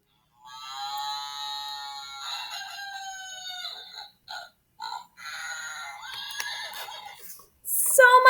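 A children's farm sound book plays a sequence of electronic animal sounds, including a long whinnying horse neigh and crowing fowl calls, tinny and moderately loud, with short gaps between sounds and a louder burst at the end.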